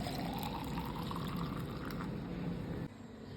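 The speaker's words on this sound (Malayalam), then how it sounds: "നമ്മുടെ വാട്ടർമെലൺ ജ്യൂസ് റെഡി ആയിട്ടുണ്ട് അപ്പോൾ അതിലേക്ക് ഇങ്ങനെ ഒഴിക്കാം" Watermelon juice pours steadily into a container in a continuous liquid stream that runs loud and close, then drops slightly softer near the end, with no talking.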